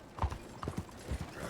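Horse hooves clip-clop in a video game, a quick uneven run of hoof strikes at moderate volume over a soft steady background.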